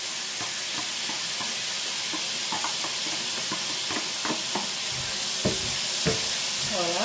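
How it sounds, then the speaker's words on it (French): Onions fry in fat rendered from pork, a continuous hissing sizzle under which a voice speaks intermittently, with scattered spatters and a faint rising whistle near the end. "le gras qui est ressorti de la viande, je m'en sers pour mettre des oignons"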